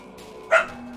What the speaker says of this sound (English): The woofing scared me.